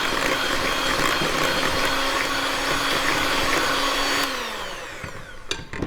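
An electric mixer whirs steadily as it mixes baking soda, kosher salt and other dry ingredients for a coffee cake, a loud, even motor drone that winds down and stops near the end.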